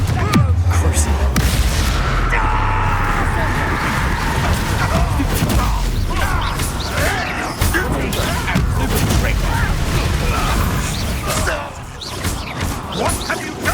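Confringo spell blasts in Hogwarts Legacy combat, with heavy booming explosions and crashing impacts over a dense, chaotic battle din, loud and close throughout.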